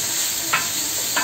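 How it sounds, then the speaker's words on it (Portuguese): Constant loud sizzle of calabresa sausage, onion, pepper and corn frying in a pot on a wood-fired stove, with two brief scrapes of a spoon stirring. "Aí aqui a gente vai deixar refogar um pouco"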